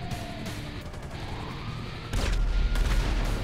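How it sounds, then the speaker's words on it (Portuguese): Gunfire and a helicopter blowing up in the video game GTA V Online: a steady clatter of shots gives way to a heavier, louder burst of crashing, booming noise in the second half. "Estouraram o helicóptero ali."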